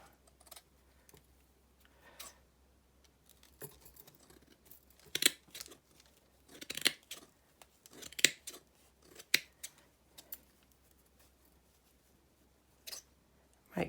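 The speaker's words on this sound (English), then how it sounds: "You take your scissors and the centerpiece where it folds over and doubles, go through there, snip, snip." Sharp scissors snip through folded layers of vintage lace, giving a string of crisp, close cuts at an irregular pace, some single and some in quick pairs, with quiet pauses between them.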